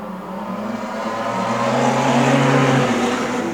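A pack of eight wingless race cars accelerating off the start of a racetrack heat, engines rising together in pitch and loudness into a sustained roaring drone.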